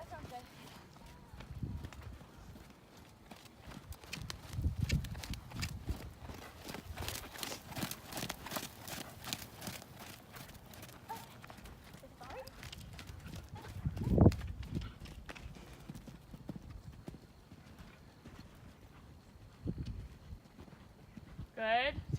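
Horse cantering during a hunt seat riding lesson, rhythmic thudding hoofbeats on soft footing moving at a steady gait, with a rider's instructor talking over them and a louder thump near the middle.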